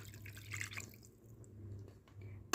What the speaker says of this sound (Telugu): ఆ వాటర్ అంతా ఇందులో వేసేసేయాలి